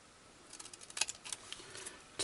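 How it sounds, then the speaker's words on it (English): Scissors snipping into a paper craft tag, a series of small crisp cuts and clicks at close range in a quiet room, irregularly spaced with a final sharper snip. "And then I'm just going to take my scissors"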